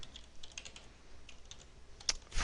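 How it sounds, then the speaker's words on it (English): Someone types a query on a computer keyboard, producing quiet, quick, irregular key clicks close by, with no talking. "what I'm going to do here is type in a query"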